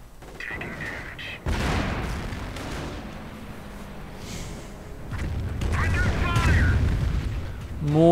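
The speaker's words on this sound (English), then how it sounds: "More barrage fire." Artillery barrage fire in a WWII strategy video game, a rumbling run of booms and blasts layered over battle noise, swelling louder toward the end.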